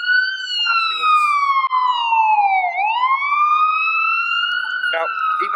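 An FDNY ambulance siren wails on a New York street, rising and falling in a smooth sweeping tone with a sharp dip near the middle, loud and close, with faint background street noise.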